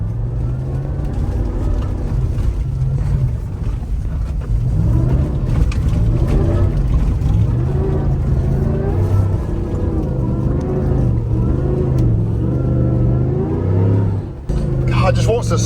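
Chevy Silverado FOX Factory truck with traction control off, engine revving hard and tires spinning for grip on a farm; a loud, continuous rumbling drone with rising and falling revs, while someone talks over it.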